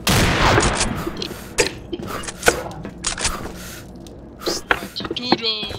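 Sharp bursts of video game gunfire crackle in quick scattered volleys, with distant booms between shots and a few louder pops close by.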